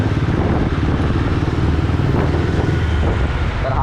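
A Royal Enfield Bullet motorcycle cruising along a highway, its engine a steady, loud, close thumping rumble with road and wind noise throughout, no talking.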